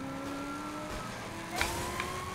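Car engine in Saints Row The Third, a steady droning tone with shifting pitch as the vehicle drives and accelerates, with a couple of brief knocks near the end.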